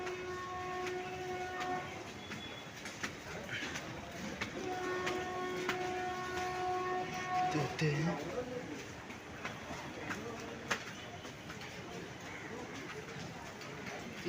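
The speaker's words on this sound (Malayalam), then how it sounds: "ട്രെയിൻ വരുന്നുണ്ട്" A train pulls into a railway station with rumbling wheels and sustained horn blasts, the horn sounding twice before fading into clattering rail noise, while voices murmur nearby.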